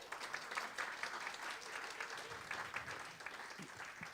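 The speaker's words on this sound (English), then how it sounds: "Please give them a round of applause." Steady audience applause fills a Sunday community gathering in Houston, a dense, continuous clatter of many hands clapping at moderate volume with no talk over it.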